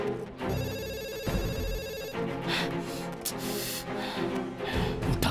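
A telephone rings with a repeating electronic tone in a Hindi-dubbed film scene, fairly quiet, alongside other muffled background sounds.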